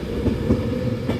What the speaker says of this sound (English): 39115 leaving Preston platform 4